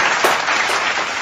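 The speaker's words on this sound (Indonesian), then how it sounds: "Tepuk tangan." Brief burst of audience applause at an Indonesian motivational talk event, a dense wash of clapping lasting about a second with no voices over it.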